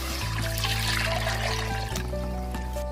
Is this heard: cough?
no